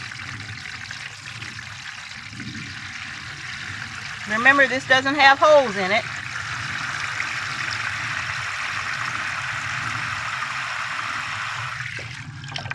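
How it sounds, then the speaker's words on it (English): Water is poured into a plastic seed-starting tray without drainage holes, a soft, steady trickle that runs quietly after a short stretch of talking. "I'm going to grab this tray right here, and I am going to fill it with water."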